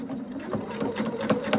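A sewing machine stitches a straight line on a handmade craft bag, a quiet, steady rapid patter of the needle running close up with small variations in pace.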